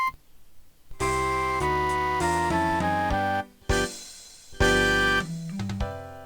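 Score playback from Sibelius notation software before a swing marking is added: a bright ensemble plays straight, evenly spaced chords and notes in short phrases with brief gaps, clear and unaccompanied by talk.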